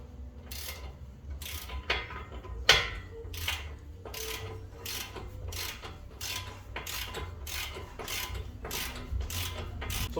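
Ratchet tightening the upper ball joint nut on a 2013 Honda Crosstour, a long run of evenly spaced clicks in a steady rhythm, close and distinct over a low background hum.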